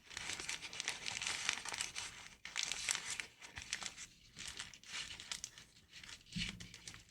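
Origami paper is creased into mountain folds for an Elden Ring Wylder model, giving close, continuous crinkling and rustling in uneven bursts with short pauses between them, and no voices.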